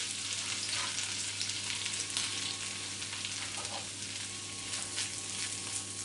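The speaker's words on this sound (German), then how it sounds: "Dann schmelze ich ein bisschen Butter in der Pfanne und gebe meine Toastwürfelchen dazu." Continuous close sizzling and crackling of small bread cubes frying in butter in a pan over mild heat, steady throughout with slight fluctuations.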